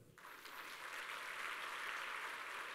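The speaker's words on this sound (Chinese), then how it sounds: "我们给他一个掌声" An audience at a company presentation claps for the company chairman, a soft steady patter of hands that starts abruptly and continues evenly at a distance.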